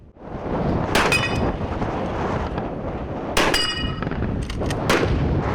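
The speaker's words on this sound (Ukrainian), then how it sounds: "Стріляли стоячи, лежачи і в русі." Loud gunshots at a shooting competition crack out in separate bursts, a couple close together, each followed by a ringing metallic clang as rounds strike steel targets.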